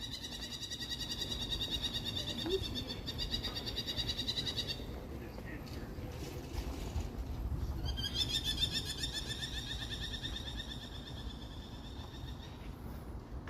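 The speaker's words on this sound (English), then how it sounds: "Is that a killdeer? Is that what you call those birds with that distinctive shrieking sound they make?" Repeated high shrill calls from a killdeer on a hot Toronto evening, two long bursts of rapid piercing notes with a gap between, over low city rumble.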